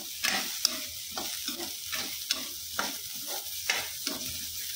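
Green chilies and ginger fry in a pan while a spoon stirs them in quick, regular scrapes about twice a second over a soft, steady sizzle, fairly quiet and with no voices.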